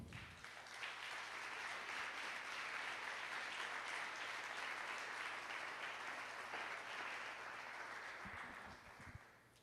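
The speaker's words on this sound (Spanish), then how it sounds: "Y puedes dar un aplauso al Señor." A church congregation claps together in a broad, even roar of applause that holds steady for several seconds before tapering off, with a low hum running underneath.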